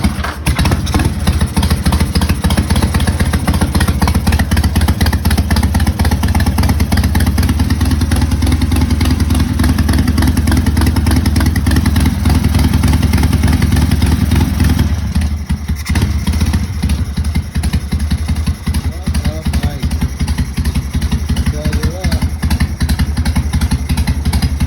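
A 1971 Harley-Davidson Ironhead motorcycle with original factory paint runs loudly up close, its engine chugging and clattering steadily at idle with small shifts in tone, and no voices.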